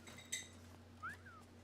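A character in Disney Dreamlight Valley whistles briefly, a short rising two-note call with a sliding tail. It sounds faint and distant over a quiet hum, after a light chime.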